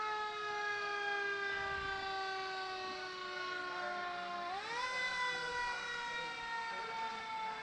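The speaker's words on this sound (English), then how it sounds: "the sirens." A fire engine siren wails loudly and steadily at a South Norfolk 4th of July parade, holding one pitch and then sliding upward as it sustains.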